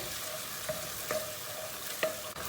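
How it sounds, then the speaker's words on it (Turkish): Minced meat sautés in a pan with a splash of water for a potato and mince dish, giving a steady soft sizzle with a few light stirring scrapes, close and fairly quiet, with no voices. "İçindeki suyu çekene kadar bunu bir kavuracağız."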